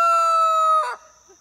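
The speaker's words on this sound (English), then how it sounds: "I'm hanging out with the chickens." Backyard chickens giving a short clucking call over a steady electronic tone, the call rising briefly near the end and then fading to near silence.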